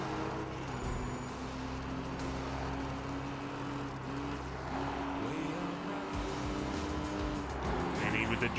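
An Aston Martin Vanquish and a Porsche Cayman racing in Need for Speed Rivals, with a continuous droning engine whine that rises and shifts pitch as the cars accelerate and pass.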